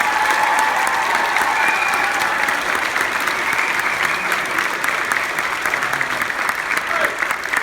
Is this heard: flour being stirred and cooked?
no